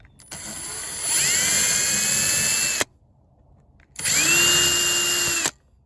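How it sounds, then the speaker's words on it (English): A high-pitched drill whines in two bursts drilling out the center of a plastic blaster nozzle, a long run then a shorter one, with a pause of near-silence between them. "So let's see if we can drill that center part out."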